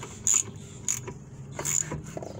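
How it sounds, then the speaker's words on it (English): Bolts on a new brake caliper of a 2010 Chevy Impala are tightened with a ratchet, giving three short bursts of sharp metallic clicking and creaking over quiet background. "Right now I'm just tightening the bolts on the new caliper."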